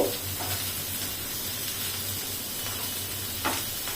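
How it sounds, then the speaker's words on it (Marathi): Chivda dal, the small lentils used for Marathi snack mix, sautés in a pan with a low, steady sizzle and hiss. A few soft stirring scrapes come through, it is fairly quiet overall, and no one speaks. "मी पण परतून घेते छान"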